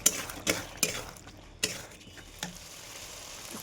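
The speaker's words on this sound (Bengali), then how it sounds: "খুব সুন্দর কষিয়ে নিয়েছি।" Fried potatoes being stirred and sautéed with spices in a pan for rui fish curry, with a few sharp utensil scrapes and clinks at irregular intervals over a faint background sizzle.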